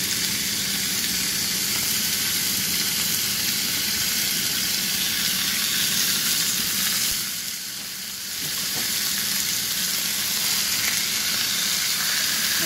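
Large pork chops seasoned with salt and pepper frying in a hot pan, a loud, dense, continuous sizzle close up that dips briefly before resuming.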